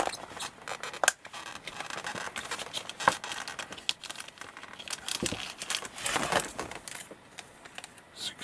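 Crinkling and rustling of a plastic bag holding parts for a 1/700 Takom warship and Zeppelin kit, with irregular close-up crackles, a few sharper snaps and handling noise throughout.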